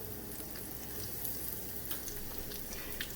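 Shrimp dropped into hot oil for shrimp parmesan give a continuous, fairly quiet crackling sizzle that holds steady throughout with a few faint pops.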